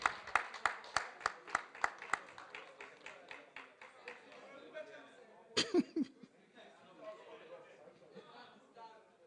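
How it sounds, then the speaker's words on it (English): An audience at a national youth mock parliament sitting claps a short round of applause, sharp and moderately close at first, then thinning into scattered claps under crowd murmur and a burst of laughter. "Let's give them a round of applause."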